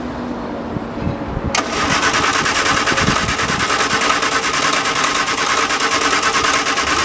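A 1973 MG Midget engine, off the road for over 21 years, cranks briefly and catches, then runs at a loud, steady idle close to the microphone with no talk over it.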